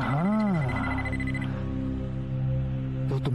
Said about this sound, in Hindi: तो तुम्हारे बीपर में एक मैसेज आया है।